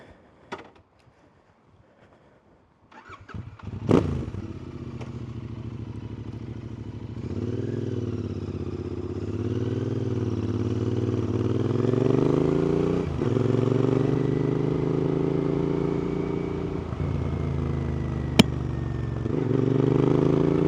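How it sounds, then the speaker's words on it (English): A Royal Enfield 650 motorcycle fitted with wide tyres and YSS suspension starts up with a sharp clunk, then its engine drones steadily and rises through gears as it rides off, with a close rumble and a brief click near the end. "let's get on the bike, we'll head up this way"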